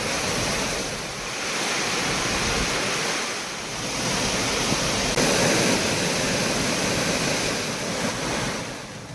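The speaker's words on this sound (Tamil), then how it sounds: "இருப்பினும் ஒகேனக்கல் அருவிகளில் நீர் ஆர்ப்பரித்து கொட்டுகிறது." A constant, heavy roar of water pours down the Hogenakkal waterfalls, broad and steady with slow swells in loudness and no voices.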